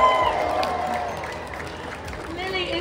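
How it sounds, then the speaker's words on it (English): An audience at a domino world record event in a London shopping centre applauds and cheers briefly, clapping fading under a host's voice speaking over it. "Give her a cheer, folks."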